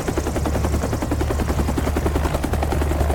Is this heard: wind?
no